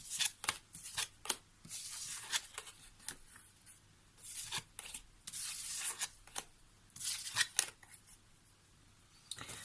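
Oracle cards shuffled during a French tarot-style card reading, giving repeated bursts of crisp riffling and rubbing that come and go, fairly close and alone without talk.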